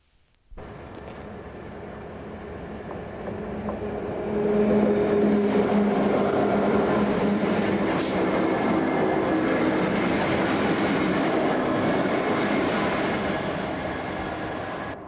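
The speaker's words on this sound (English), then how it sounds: "From Immingham Motive Power Depot, coupled Class 66 locomotives head towards Ulceby." Coupled Class 66 diesel locomotives from Immingham Motive Power Depot pass by near the Port of Immingham, a loud sustained engine drone and rumble that swells after a few seconds, holds steady and slowly eases toward the end.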